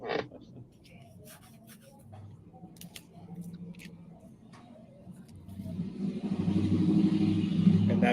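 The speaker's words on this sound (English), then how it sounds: "that's a truck with loud exhaust" A truck with a loud exhaust passes by: a low rumble builds and swells over the last few seconds and becomes the loudest sound, over a quiet background.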